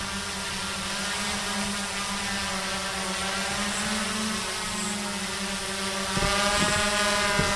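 A QAV540G quadcopter drone descends from about 30 meters, its steady motor whine holding overhead with a faint rising buzz near the end, mixed with wind noise.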